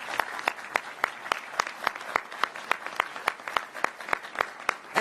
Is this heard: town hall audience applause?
yes